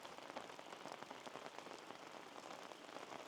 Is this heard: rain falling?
yes